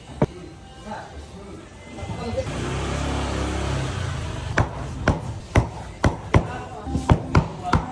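A knife slicing fish on a cutting board for Visayan-style kinilaw, the blade striking about ten sharp, evenly spaced chops near the end, following a stretch of low rumbling background and faint talk.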